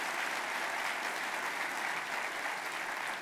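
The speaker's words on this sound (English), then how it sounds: "how about a round of applause for the totality of what the Devon Tower has meant for the city" Sustained audience applause during a mayor's State of the City speech: an even, dense roar of many hands clapping, steady and moderately distant, with no pauses.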